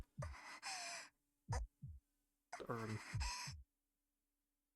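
A video game character, a woman, gives pained whimpers and gasping breaths in short bursts with silent gaps between them, close and fairly loud, over a faint steady hum.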